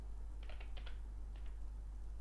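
Light typing on a computer keyboard to enter commands at a console port, two brief clusters of soft key taps, faint against a steady low electrical hum.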